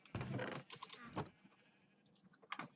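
Minecraft sheep giving a few short, close bleats in quick bursts, followed by quieter intermittent blips.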